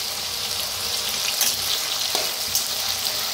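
Potatoes frying in hot oil with a pinch of salt for sabudana khichdi give off a steady, close crackling sizzle with a faint watery hiss, continuous and without any voices.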